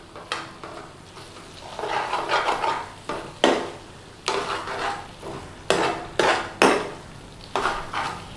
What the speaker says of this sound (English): So put our onions in. Give them a little stir through.